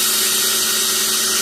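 A power drill spins wide open with a steady, continuous high whine, loud and close, while twisting wire in its chuck jaws.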